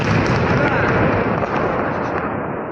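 A continuous, loud roar of rumbling blasts and crackling bursts from a drone strike on oil depots in Smolensk Oblast, dense and sustained, with no clear gaps between the explosions.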